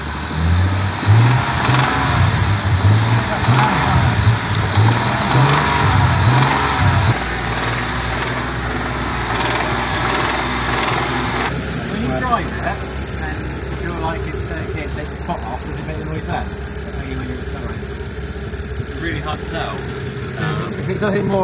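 A BMW M135i engine revs up and settles back to a steady idle, a loud, close mechanical drone that runs throughout, with people talking over it.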